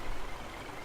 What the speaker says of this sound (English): it sounds like the engine of the truck is just ticking over